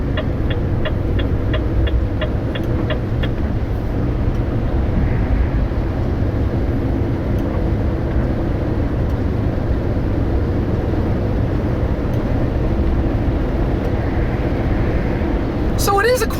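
Cab interior of a 2023 Renault T High 480 turbo compound truck while driving, a steady low engine drone and road rumble holding evenly throughout, quiet and smooth, with a few faint ticking clicks early on.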